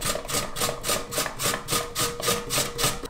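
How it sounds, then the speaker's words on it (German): Peeled apples grated by hand on a kitchen grater, about a dozen evenly spaced rasping strokes in quick rhythm, close and clear with no talking. "zuerst werde ich jetzt die Äpfel hier durch diese Reibe hier reiben"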